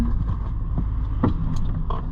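Ford Super Duty pickup truck rolling slowly in gear, a steady low engine and drivetrain rumble close by with a few light knocks and clunks over it.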